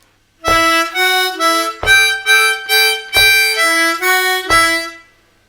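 Blues harmonica plays a song intro in slow tongue-blocked octaves, five loud reedy phrases with sharp attacks separated by brief gaps, ending on a held 1-4 draw octave, with no voice over it.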